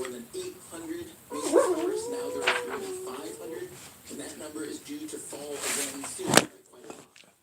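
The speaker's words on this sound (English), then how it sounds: "Don't mind the dog." A dog howls and whimpers in rising, wavering cries in the middle of the clip, close by and fairly loud, over a background of someone speaking and a guitar.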